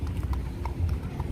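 Carriage horse hooves in Central Park, Manhattan, clop in a quick, light rhythm of several distinct knocks on the pavement, moderately close and fairly faint over a low background rumble.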